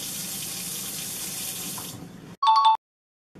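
Tap water runs steadily into a laboratory sink as a plant is rinsed under it, a loud continuous splash that stops abruptly, followed by a brief bright tonal beep.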